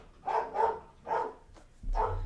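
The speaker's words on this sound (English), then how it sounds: "Sorry about the dog." A dog barks somewhere in the room during a live stream, four muffled barks in a quick irregular run, moderately loud with a low hum beneath.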